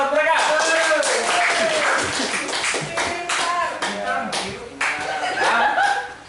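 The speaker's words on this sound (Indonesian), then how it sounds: "Tepuk tangan buat mereka" A school class claps together in a dense, steady burst of applause with some chuckling mixed in and speech running over it.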